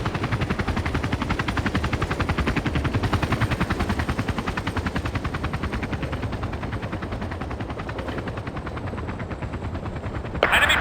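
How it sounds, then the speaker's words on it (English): An enemy helicopter flying in during a Battlefield 2 Special Forces match: a loud, continuous, rapid rotor thudding that stays steady throughout, with a brief sharper noise near the end. "Enemy chopper inbound."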